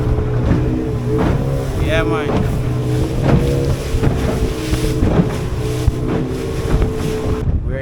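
A motorboat engine drones steadily under gusty wind noise as the boat bumps over waves in Jamaica, with a voice speaking briefly over the rumble.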